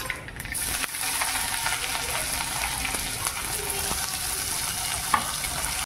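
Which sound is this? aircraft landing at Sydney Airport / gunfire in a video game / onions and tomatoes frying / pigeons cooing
onions and tomatoes frying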